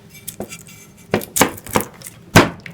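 A knife chops lemongrass sharply on a cutting board several times at an uneven pace, the strokes close and crisp with quiet gaps between.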